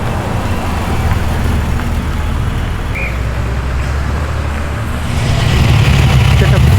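A BMW street car driving past while leaving a car show in Tempe, Sydney, a loud steady roar of road and engine noise that swells toward the end amid surrounding traffic.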